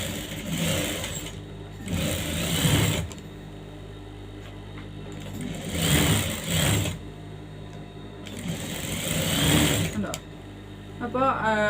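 An electric sewing machine stitches the shoulder seam of a saree blouse in three bursts of rapid whirring, each a few seconds long, with short pauses between them and brief speech near the end.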